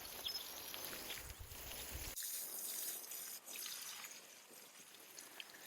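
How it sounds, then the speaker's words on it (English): Water splashes steadily onto a freshly composted vegetable garden bed, a continuous close trickle and spray with no talking. "And then we can give it a water."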